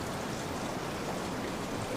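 Steady rain falls without pause, a dense, even hiss of drops spattering on surfaces, moderately loud and close, with no voices or other sounds breaking through.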